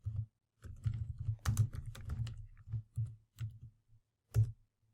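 Fingers tap on a computer keyboard at a command line, a close run of quick clicky keystrokes in short bursts with brief pauses.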